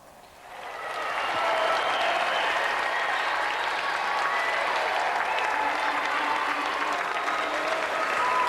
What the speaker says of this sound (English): Round of applause for tonight's challenger.